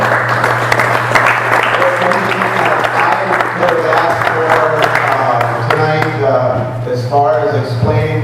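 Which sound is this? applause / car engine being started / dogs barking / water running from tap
applause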